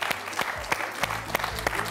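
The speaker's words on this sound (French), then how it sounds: "Hakim, je crois qu'on peut vous applaudir chaleureusement pour ce parcours magnifique." Studio audience of a French TV quiz show applauding, a steady burst of close, dense clapping lasting a couple of seconds with no talk.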